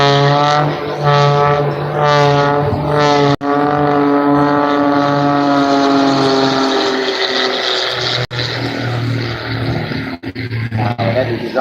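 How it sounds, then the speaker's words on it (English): A propeller aircraft flies past at an airshow, a loud, steady droning roar with a pitch that sweeps downward as it passes, continuous throughout and heard alone. "So similar to this aircraft you see here with the propeller at the front."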